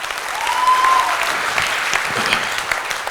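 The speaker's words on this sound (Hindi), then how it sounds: "मैं चाहूंगा इस बिजनेस के लिए एक बार जोरदार ताली बजाइए" Loud, sustained applause from a seminar audience, a dense even wash of many hands clapping together for a few seconds with no talk over it.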